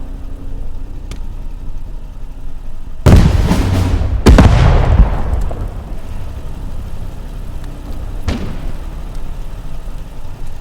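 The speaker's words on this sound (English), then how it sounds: "Ich werfe eine Granate!" A grenade explosion in the video game Call to Arms: Gates of Hell Ostfront at a German recruit training ground: two heavy booms a second apart that fade into rumbling noise, then a sharp later crack, all over a constant low background hum.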